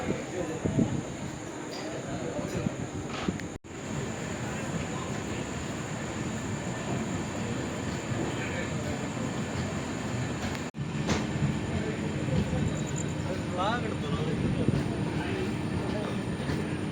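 An Amrit Bharat Express passenger train departs Nagercoil station in India, rumbling steadily along the rails, with occasional wheel squeals and faint voices under the continuous noise.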